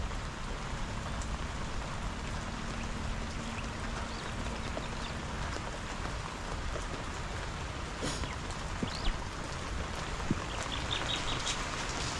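Heavy rain pours steadily, a dense hiss of drops drumming on surfaces, with a few faint bird chirps in the background.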